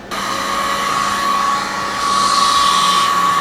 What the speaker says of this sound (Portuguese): Soprador sempre em movimentos orientados, tá? Nunca para o soprador, senão você pode queimar o filme